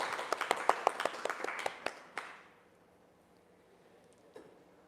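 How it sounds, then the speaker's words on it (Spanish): A seminar audience claps for a speaker, a brief burst of scattered applause with distinct individual claps that thins out and fades into quiet room tone after about two seconds. "Aplausos para la expositora nuevamente."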